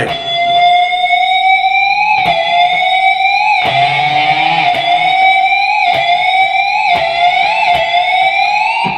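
Squealing electric guitar pinch harmonics on the third string with the neck pickup ring out in repeated bursts, each pitch wavering and sagging as the whammy bar dives, loud and sustained.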